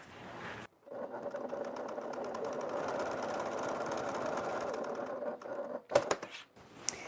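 A sewing machine bastes a faux leather bag piece closed, running in a steady close rattling hum for several seconds before stopping, followed by a few brief handling clatters.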